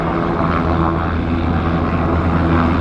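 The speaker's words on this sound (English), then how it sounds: "have another attempt of landing his little plane on a moving vehicle" A small propeller plane flies at an airshow, setting up another attempt to land on a moving big Chevy Silverado pickup; its engine drones loud and steady throughout with a continuous buzzing hum.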